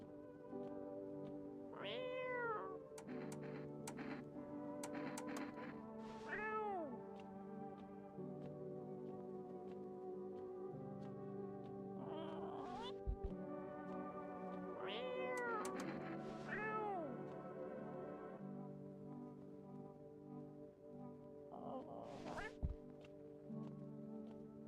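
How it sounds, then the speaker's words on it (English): A cat meows repeatedly in drawn-out, rising and falling cries over about twenty-five seconds, fairly close, with a steady background hum and occasional faint knocks. "The fuck is the cat?"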